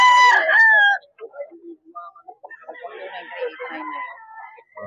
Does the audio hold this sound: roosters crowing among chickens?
yes